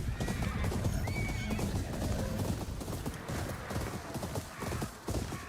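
A horse in the Ghost of Yotei video game whinnies and snorts over clopping hooves on a loud, busy game soundtrack, close and repeated throughout.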